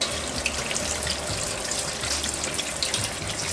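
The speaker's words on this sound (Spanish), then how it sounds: "Primero, lava la cáscara." Mango peel rinsed under a running kitchen tap, with a steady, close hiss of flowing water splashing into a sink and no pauses.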